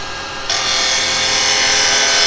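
A woodturning lathe spins steadily while a turning tool cuts into the wood to form a tenon, a close, continuous rasping hiss that swells suddenly and holds loud and even.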